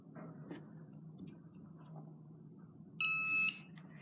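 A kitchen timer gives a single short electronic beep, a loud piercing tone about half a second long, over a quiet background with faint handling noise and no talking.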